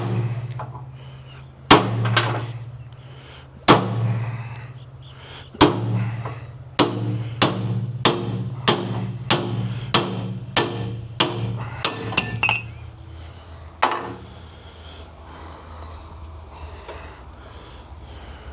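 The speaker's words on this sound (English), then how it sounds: "I'll get a bigger hammer and see what we can do." A bigger hammer striking metal on a Caterpillar 933 loader, sharp ringing clanks at first spaced apart, then a rapid regular run of about a dozen blows before tapering off to a last hit.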